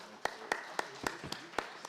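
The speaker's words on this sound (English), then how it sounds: "Please a round of applause for him." Steady, evenly spaced hand claps, about four per second, fairly close and moderately loud, with no talking, from an audience at an agriculture conference in Abuja.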